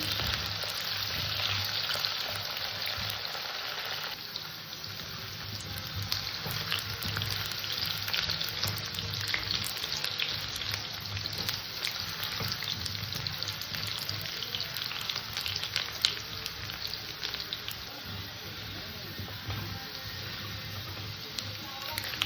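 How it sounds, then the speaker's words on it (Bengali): Potatoes frying in a pan until lightly browned, a steady, fairly quiet sizzle of hot oil that carries on throughout. "আলুটাকে আমি ভালো করে একটু হালকা লাল লাল করে ভেজে নেবো"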